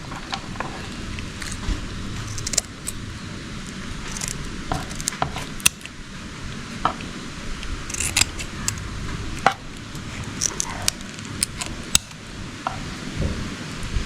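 Knife slicing through small chivni fish caught in the first monsoon rains, heard as a series of crisp, close snipping and cutting clicks at irregular intervals over a faint steady background hiss, with no talking.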